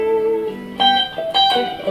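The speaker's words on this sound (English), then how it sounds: "which is a cool descending lick. It sounds like this." An electric guitar plays a short run of notes stepping downward, clear and close, with a pause and then a few bright picked notes.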